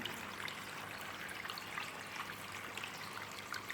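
A small waterfall stream runs steadily in a paludarium tank, a soft continuous trickle and splash that stays faint and even throughout, with no voices.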